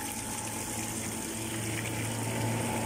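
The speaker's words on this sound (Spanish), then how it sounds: "Vemos la fuente de agua que desciende de lo máximo." Water flowing down from a spring in El Salvador, a steady, continuous rushing gush with an even low hum underneath, close and unbroken throughout.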